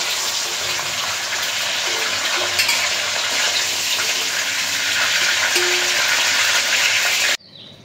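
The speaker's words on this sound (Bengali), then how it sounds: "পটলের যে একটা অংশ কেটে বিচি বের করছিলাম সেই অংশটাও ভেজে নেব" A piece of pointed gourd fries in hot oil, giving a dense, continuous close sizzle with faint crackles that holds steady for several seconds before stopping suddenly.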